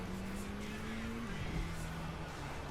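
A car drifts in the video game Watch Dogs Legion, its engine droning with a shifting pitch and a faint tire-skid hiss, moderately loud and steady.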